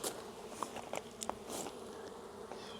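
A swarm of bees that has just abandoned its hive hums as a faint, steady outdoor buzz, with a few soft clicks and taps scattered on top.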